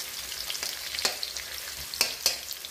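Onion stir-fries on a high flame in a hot pan for fried rice. A close, bright sizzle is punctuated by several sharp scraping clacks from stirring, with no voices.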